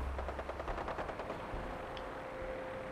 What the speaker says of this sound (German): Die schießen ja auch noch die ganze Zeit drauf.